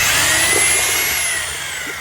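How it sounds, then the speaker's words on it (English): A loud, steady power drill with a mixing paddle whines continuously at close range, its pitch holding then dropping slightly as it churns through a thick mix of Portland cement and sand. "A drill with a mixing paddle."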